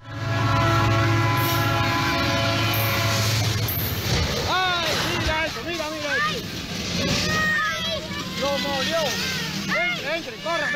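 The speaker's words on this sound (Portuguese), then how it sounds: "filmava a passagem do trem" A train rolls along a newly laid railway line beside a neighborhood, its horn sounding in long tones before a rush of wheels and cars, while excited voices of adults and children talk and call out over it.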